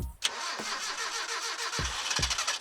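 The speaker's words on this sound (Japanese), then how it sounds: "エンジンをかけてみます。" A Lancer EX Turbo engine cranks briefly and starts, then settles into a steady, close idle with a few low thumps underneath.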